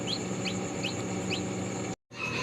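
A newly hatched chick from a home incubator, heritage chicken breed, peeps several times in short, high rising chirps over a steady background hum, and the sound drops out briefly near the end.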